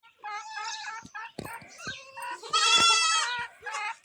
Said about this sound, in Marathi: आता ती शेळीची पिल्लं बघा कशी वरडायला लागली, तुम्हाला पण त्यांचा आवाज येत असेल